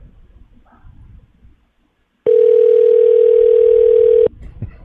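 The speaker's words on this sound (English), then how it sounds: "Can Chad hear the phone ringing?" A telephone sounds one steady, loud electronic tone lasting about two seconds, cutting in sharply and stopping abruptly, with quieter room noise and a faint voice around it.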